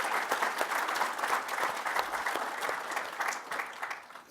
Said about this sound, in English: So big round of applause for the effort they've put in.